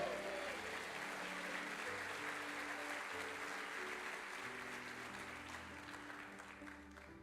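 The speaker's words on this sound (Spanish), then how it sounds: "Dale un aplauso al Señor por eso." A church congregation applauds steadily at a sermon, a sustained even wash of clapping that tapers off slightly, with a faint sustained musical tone underneath.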